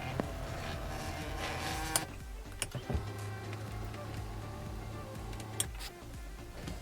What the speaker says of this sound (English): This funny looking switch here allows you to adjust the height and reach of the steering wheel